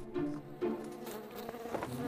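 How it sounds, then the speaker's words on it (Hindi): A fly buzzes steadily and close, its drone wavering in pitch and loudness over two seconds with no talk. "ओह, मक्खी, तुम वापस आ गई।"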